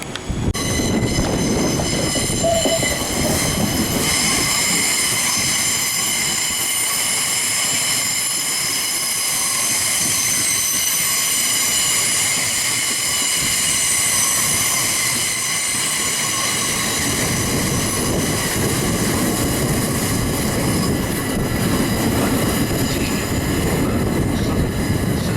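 Inside a South Western Railway standard-class train bound for Winchester, a loud continuous rumble of wheels on track fills the carriage, with a high whine or squeal running over it throughout.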